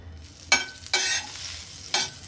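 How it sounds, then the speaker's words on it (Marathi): A buttered sandwich toasts in a hot pan with a low background sizzle, broken by three sharp bursts of sizzling and scraping as it is pressed or moved. "आणि याला पण आता चांगलं शेकून घेणार आहे बघा मी"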